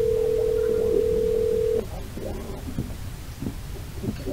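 A steady electronic phone tone holds for nearly two seconds, then cuts off into quieter rustling handling noise and faint room sounds.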